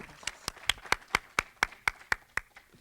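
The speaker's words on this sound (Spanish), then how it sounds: "Entonces le damos un aplauso a Paz para que inicie su presentación." A handful of people clap for a speaker about to start a presentation at an academic talk on human rights education, a sparse, steady run of about ten distinct handclaps fading out at the end.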